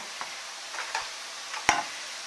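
Onions are stirred in a cooking pan over a soft, steady sizzle, with a few scraping strokes spaced out and the last one sharpest and closest.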